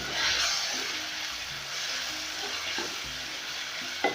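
Tomatoes hit hot oil with onions already turning translucent, a close, loud, continuous frying sizzle with a brief sharper clatter near the end, no talking.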